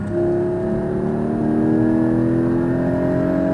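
A Porsche Cayman GT4 accelerates at full throttle on a track, the engine note loud and rising steadily in pitch as the revs climb, heard from inside the car without talking.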